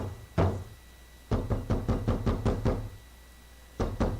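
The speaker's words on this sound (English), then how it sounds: "I heard pounding noises from outside the door." Heavy pounding on a door from outside: one thud, a pause, then a rapid run of about eight loud, close blows, then two more after a gap.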